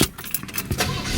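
A 1977 Chevrolet Monte Carlo Landau's big engine cranks and catches, a short close burst of starter whir and engine roar with some rattling, heard alone without talk.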